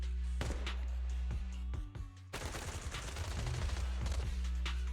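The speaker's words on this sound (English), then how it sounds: "Gunfire?" Video-game gunfire in a combat scene, rapid bursts and single shots of automatic weapons crackling sharply at close range over a low droning soundtrack, with a short lull partway through before the firing resumes.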